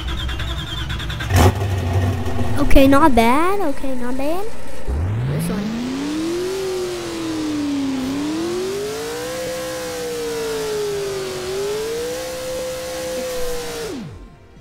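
A car engine in the Roblox game Driving Empire starts up and revs repeatedly, rising and falling in pitch over several long sweeps before cutting off, with a person talking over the first part.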